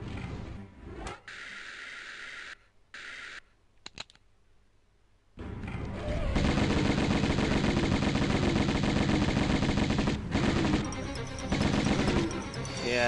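Uzi fire from Tomb Raider 1 Remastered comes in rapid mechanical bursts. A short stretch plays first, then a near-silent gap, then sustained loud automatic fire for the rest of the stretch.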